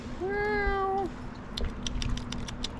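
A cat meows once in a long, clear, slightly falling call close by outdoors in Lauterbrunnen, Switzerland, followed by soft scattered clicks and rustles.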